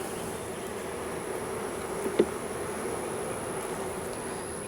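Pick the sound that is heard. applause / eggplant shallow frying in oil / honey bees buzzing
honey bees buzzing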